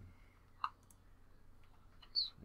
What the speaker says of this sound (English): Gonna roll the dice.